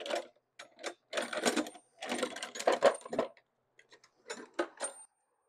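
A 13 mm ratchet wrench tightens a small puller to draw a dowel in while replacing the alternator on a Honda Accord 3.5L, producing close bursts of quick ratcheting clicks separated by short pauses.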